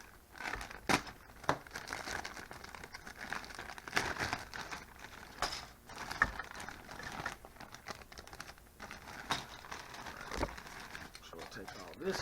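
Large plastic bag holding Model A roadster body parts (1929) being handled and unpacked, crinkling and rustling in irregular bursts close by, with talk over it.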